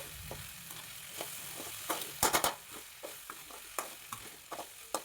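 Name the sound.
stirring and frying okra in pan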